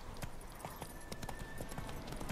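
Horse hooves clip-clop in a rapid, steady galloping rhythm in the video game The Witcher 3, close and continuous, with faint music or ambience beneath.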